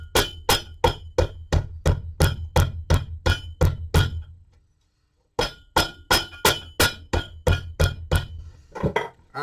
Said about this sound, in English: Get my big flat hammer, big flat bit, and we're just going to